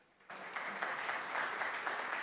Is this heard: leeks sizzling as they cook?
no